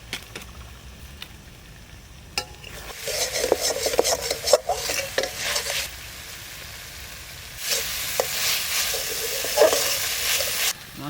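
Spices with turmeric and chilli powder frying in a pan in a village kitchen, a soft broadband sizzle with scraping stir strokes that swells in two longer bursts, fairly close and steady with no talk.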